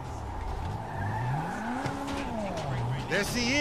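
A car in GTA V revs and shifts while driving, engine pitch rising and falling steadily, with a sharp tire squeal near the end; a voice talks over it.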